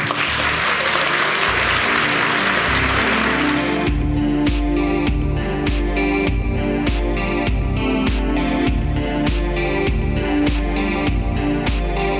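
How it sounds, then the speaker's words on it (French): Loud crowd applause at a game development event fills the opening seconds, then gives way to steady music with regular beats. "un tonnerre d'applaudissements pour le CNC s'il vous plaît"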